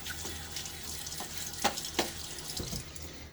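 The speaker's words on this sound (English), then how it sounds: "The water on my face." Tap water splashing onto a face during a wet shave, with soft trickling and a couple of sharper splashes up close, fairly quiet, no talk.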